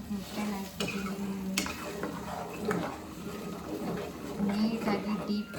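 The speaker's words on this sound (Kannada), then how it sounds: "ನೀಟಾಗಿ ಡೀಪ್ ಫ್ರೈ" Four eggs deep frying in hot oil, a continuous sizzle broken by spoon-stirring scrapes and clinks against the pan, close and moderately loud.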